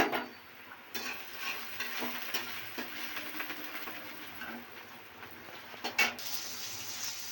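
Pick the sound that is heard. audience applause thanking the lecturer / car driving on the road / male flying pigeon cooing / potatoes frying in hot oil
potatoes frying in hot oil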